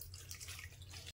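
Water pours into wheat-flour dough for Tirunelveli halwa, giving about a second of steady, close splashing over a low hum before it cuts off.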